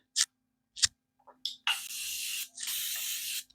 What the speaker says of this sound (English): I'm going to use my Morphe spray, and I'm just going to spray my face